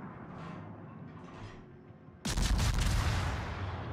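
Naval gunfire from a World of Warships battle with the cruiser Worcester: after quiet ambient rumble, a sudden loud broadband blast of guns firing erupts and keeps roaring and rumbling to the end.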